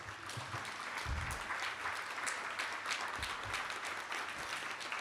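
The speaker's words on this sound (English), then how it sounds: "I want you all to give yourselves a round of applause for being amazing people." Conference audience in an auditorium at WikiConference North America breaking into steady, full applause, a continuous dense clatter of many hands at moderate distance throughout.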